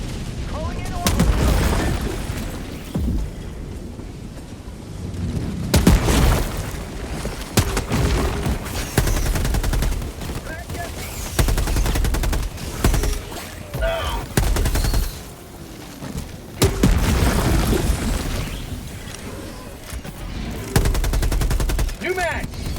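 Orbital strike explosions pound a bug-infested city in the video game Helldivers 2 during acid rain, heavy booms and rolling blasts mixed with steady gunfire, while players shout over the chaos.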